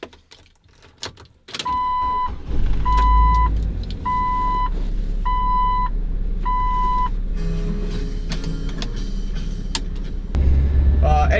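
A 2002 Jeep TJ SE with the 2.5L engine idles and rolls off on a drive, a low steady engine rumble under a repeating electronic chime and a few clicks and clunks from the cabin.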